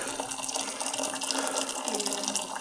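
Hot water pours steadily from a kitchen tap into a pot, a close, continuous splashing rush at moderate volume with no talking.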